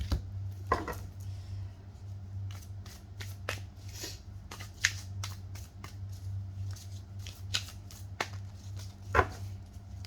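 Tarot cards are shuffled and laid out on a table: quiet close riffles, soft snaps and slaps of cards in irregular bursts over a low steady hum, with no talk.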